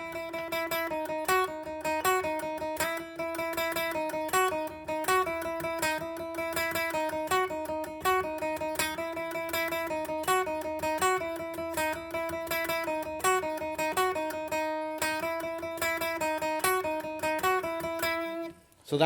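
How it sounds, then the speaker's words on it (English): A second electric guitar line from the verse of a song plays steady repeating melodic notes over a driving rhythm part, loud and continuous with no talking. "So that's another guitar line that's playing along."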